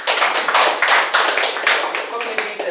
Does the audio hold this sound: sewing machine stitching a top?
no